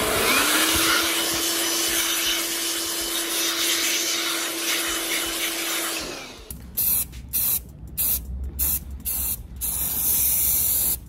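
Compressed air blasts rust out of a boat's crash pump part aboard a 1988 Hatteras 65C, a long loud hiss with a steady whine, then several short sharp bursts of air.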